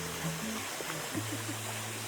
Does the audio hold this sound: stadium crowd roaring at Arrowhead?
no